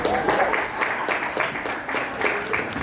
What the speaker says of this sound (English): One more round of applause for Chudi